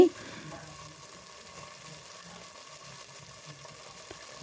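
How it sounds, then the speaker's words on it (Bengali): Ginger garlic paste frying in hot oil for a chicken curry gives a soft, steady sizzle with faint low stirring sounds underneath, fairly quiet and close. "আদা রসুনের পেস্ট দিয়ে আমি খুব ভালোভাবে ভেজে নিচ্ছি"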